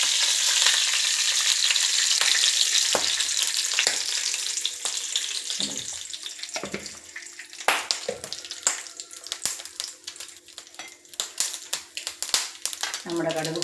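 Mustard seeds crackle and pop in hot oil over a loud continuous sizzle, sharp spluttering bursts growing busier toward the end, with a voice talking over it.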